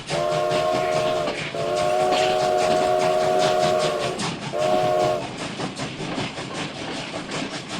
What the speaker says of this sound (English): Geez, that train whistle's loud.